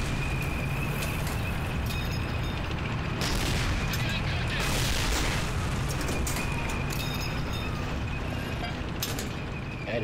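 Continuous, dense battle noise from the video game Medal of Honor Allied Assault in a Brittany mission, with steady gunfire and rumbling blasts running the whole time at moderate loudness.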